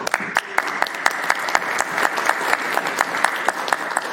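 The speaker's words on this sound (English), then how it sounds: "You should all deserve a round of applause" Applause from a modest audience at a council public meeting, with individual claps standing out clearly in a fairly quick, uneven patter that stays steady and fairly close throughout.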